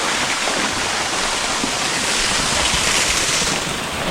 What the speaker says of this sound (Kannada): ಅಪ್ಸರೆಯರು ಸ್ನಾನ ಮಾಡಿದ ಫಾಲ್ಸ್ಗೆ ಈಗ ನಾನು ಇಳಿತಾ ಇದ್ದೀನಿ